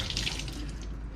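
Tap water runs steadily from a faucet over fresh bay scallops during a quick rinse, a close, continuous splashing stream in a sink with no talking.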